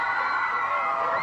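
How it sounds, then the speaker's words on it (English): A studio audience on a 1995 children's geography game show cheers and whoops for a contestant, a brief, loud, continuous burst of young voices shouting together. "Give her a big round of applause, you guys."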